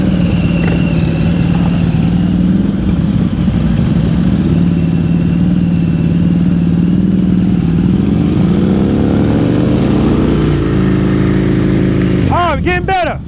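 A motorcycle creeping along at slow speed during a riding-skills practice session, its engine holding a steady mid-pitched idle-like drone with slight throttle changes, loud and close throughout.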